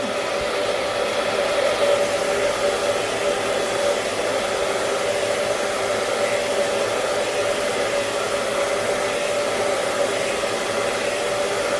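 A hair dryer set on hot blows steadily on a section of bleached hair in a cosmetology setting, a loud, even whirring hum that runs unbroken throughout with no voices.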